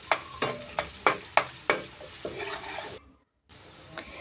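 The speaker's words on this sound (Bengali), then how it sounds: "আমার আগে থেকে কেটে রাখা পেঁয়াজ কুচিগুলোকে আমি তেলের মধ্যে দিয়ে দিচ্ছি।" Chopped onions frying in oil and stirred by hand, a series of rhythmic scraping strokes over a steady sizzle, close up, ending in a brief silent gap before the frying resumes.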